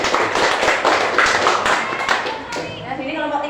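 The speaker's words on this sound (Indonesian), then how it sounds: "Boleh tepuk tangan kelompok 2." Fifth-grade classroom pupils clap their hands in a quick, fairly loud burst of overlapping claps, fading as children's voices and a teacher's speech take over.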